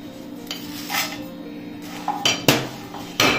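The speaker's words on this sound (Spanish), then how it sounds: "Voy a empezar por tostar el chile de árbol." Dried chile de árbol toasting in a pan while being stirred with a utensil, giving scattered metallic scrapes and clinks, a few sharper knocks near the end, over a low kitchen background.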